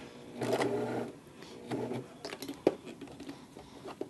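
A sewing machine is slowly hand cranked through thick rag quilt layers, giving two short bursts of stitching followed by scattered clicks and knocks from the mechanism, close and fairly quiet.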